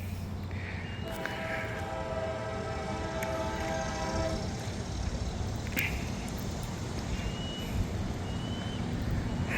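Freight train M506 rumbles past on the B&O line with a steady, loud rolling roar of wheels and cars. A horn sounds in long tones early on, and the train noise carries on throughout.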